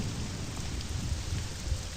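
Steady hissing rain with a low, rumbling thunder undertone fills the air in the video game Morrowind, continuous and fairly faint, with no voices.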